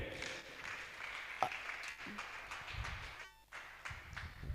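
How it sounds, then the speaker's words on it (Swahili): A church congregation clapping together, a sustained wash of scattered applause heard at moderate distance with some murmuring voices underneath, filling the hall throughout. "Tumahure makofi mega."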